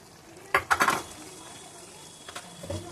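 A spatula scrapes and clatters against a frying pan as a dry-roasted ground cumin, coriander and fennel spice mix is sautéed for chicken. A quick burst of four or five stirs is followed by a low sizzle and a few softer scrapes.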